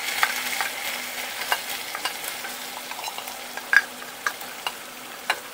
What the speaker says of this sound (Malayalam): എന്നിട്ട് നല്ലപോലെ ഒന്ന് മിക്സാക്കി കൊടുക്കുക.